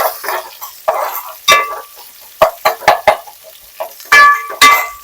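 Whole spices such as caraway, cinnamon, cardamom and cloves, then onions and green chillies, go into a hot pan for egg biryani, loud close bursts of sizzling and crackling in uneven spurts separated by quiet gaps, with no talk.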